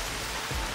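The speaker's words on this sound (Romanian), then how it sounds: "Plouă torențial cu soare." Torrential rain pours down while the sun shines, a steady, dense hiss of heavy drops close by with no pauses.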